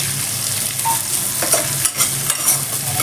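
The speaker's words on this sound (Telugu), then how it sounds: "సోంపు వేగుతుంటే చాలా మంచి ఫ్లేవర్ వస్తుంది." Fennel seeds and chopped onions sizzle in hot oil in a pan for a restaurant-style butter chicken fry, a loud, close crackling hiss with occasional stirring scrapes throughout.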